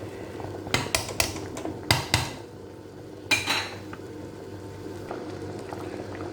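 Fisherman soup with fish and uziza leaf bubbling in a pot, a continuous low boil broken by a few sharp clinks and scrapes of a spoon stirring against the metal, close by.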